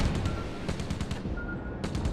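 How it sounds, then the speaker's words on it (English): Continuous rapid anti-air gunfire from a warship in the World of Warships naval game, a dense rattling barrage of overlapping shots under a low rumble, with no pauses. "I'm doing quite a lot of anti-air fire onto these dive bombers."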